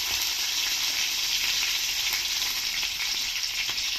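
Curry leaves dropped into hot oil give a loud, steady, close sizzle that crackles continuously for the whole stretch, with no voices.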